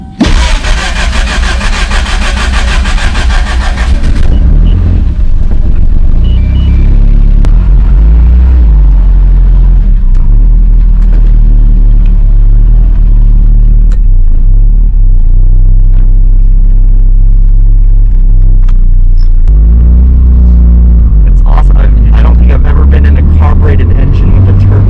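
A 1983 Lotus Esprit Turbo, bone stock, revs loudly, then drives with a steady engine drone that rises and falls through gear changes, heard up close with occasional voices.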